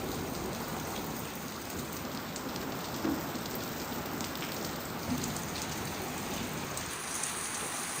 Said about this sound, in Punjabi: ਲੋ ਜੀ ਮੀਂਹ ਪੈ ਰਿਹਾ ਮੀਂਹ ਅੰਦਰ ਨੂੰ ਬਾਛੜ ਆਉਂਦੀ ਪੂਰੀ